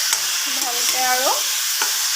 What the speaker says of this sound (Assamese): চাৰিওকাষে লৰাই দিছোঁ চাৰিওফালে আৰু মাংসবোৰ সুন্দৰকৈ লাগি যোৱাকৈ